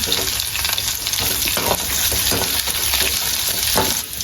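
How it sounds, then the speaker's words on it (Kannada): Curry leaves frying in hot oil for Mangalore-style crab sukka, a loud, close, continuous crackling sizzle with stirring, and no talking. "ಬೇಸೊಪ್ಪು ಪಾಡ್ಲಿ ಅವೇನೊಂಚೂರು ಎಣ್ಣೆಗೆ ಫ್ರೈ ಮಲ್ಪಲೆ"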